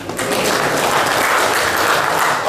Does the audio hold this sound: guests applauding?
yes